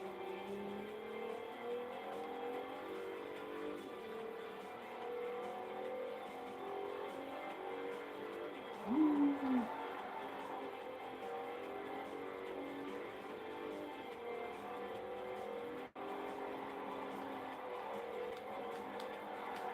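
Front-wheel-drive car engine revving in the Forza 4 racing game during a drift attempt, a steady droning whine with a brief louder burst midway, with no talk.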